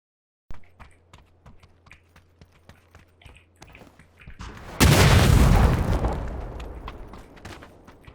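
A grenade explodes in PUBG as one sudden loud boom with a long rumbling decay, preceded by light rhythmic keyboard clicks and faint footsteps.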